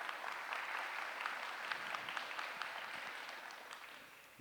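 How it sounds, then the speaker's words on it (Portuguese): Audience applause at a seminar talk, steady dense clapping from a crowd that holds evenly throughout and tapers slightly at the end. "Uma salva de palmas, por gentileza."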